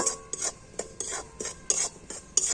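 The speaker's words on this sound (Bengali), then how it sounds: "এইভাবেই করে চালের গুঁড়িটা ভেজে নেব" Rice flour dry-roasting in a pan is stirred with a utensil, giving repeated scraping, rasping strokes about twice a second, close and moderately quiet, with no talking.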